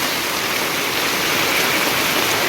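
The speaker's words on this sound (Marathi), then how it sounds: "सकाळपासूनच चालू झाला आहे लय जोरात पाऊस आहे" Heavy monsoon rain pours down in a dense, continuous roar, loud and even with no breaks or voices.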